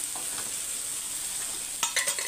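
Tomatoes frying in a pan with salt and chili powder, stirred with a spoon: a steady sizzle runs throughout, with a few louder scraping stirs near the end.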